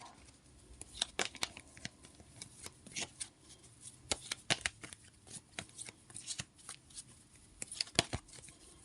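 Tarot cards handled and shuffled up close, a string of soft quick riffling and slapping bursts in an irregular rhythm, quiet and alone.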